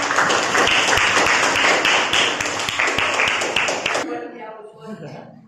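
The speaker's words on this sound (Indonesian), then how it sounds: "tepuk tangan dong buat teman" Classmates in a school classroom clap together for a group, a dense burst of many hands for about four seconds that stops abruptly, followed by a teacher talking.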